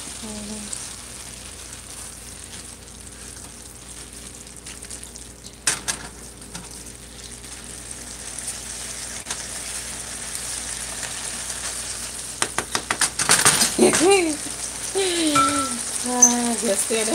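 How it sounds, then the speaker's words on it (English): Ackee, corn and pork frying in a pan give a steady soft sizzle, with occasional scrapes and clacks of stirring and folding growing busier toward the end; a voice talks briefly over it. "I'm going to stir it one more time. And you notice I'm folding."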